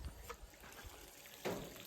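Water sprayed onto the walls of a newly built house to cure them, a faint, soft trickling and splashing with one louder gush near the end.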